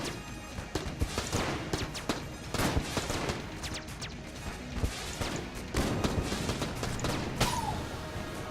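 Gunfire in Enter the Gungeon during a boss fight against a tank, with dense, rapid bursts of cartoonish shots and impacts, steady and busy throughout, layered over game music.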